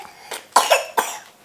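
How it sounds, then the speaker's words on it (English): A young child coughs in three short bursts, close by, with a pause before the last cough, in an otherwise quiet room. "She's still coughing."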